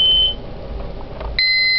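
A fire alarm annunciator panel in a home system emits electronic beeps while a reset code is entered: a steady tone at the start, a quiet gap with faint handling, then a sharper two-tone beep that holds to the end.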